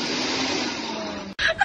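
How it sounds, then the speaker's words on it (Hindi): A steady, loud whirring drone of a mixer grinder runs continuously, then cuts off abruptly near the end followed by brief tones. "मिक्सी चलाओ।"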